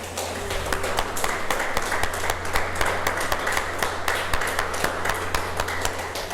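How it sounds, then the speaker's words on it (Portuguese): A church congregation claps steadily during a sermon, a continuous crowd applause with distinct sharp hand claps standing out, moderately loud and sustained. "Pode aplaudir o Senhor."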